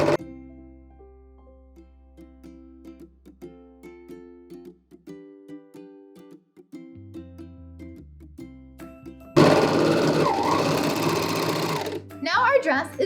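A serger stitches a super stretchy knit turtleneck shirt dress. It cuts in suddenly after gentle background music and runs loud and steady to the end, with a short dip near the finish.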